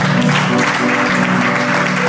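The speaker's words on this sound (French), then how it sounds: "Nous acclamons le Seigneur." A church congregation applauds and cheers the Lord at a Sunday service, a loud, dense, continuous wash of clapping with voices mixed in throughout.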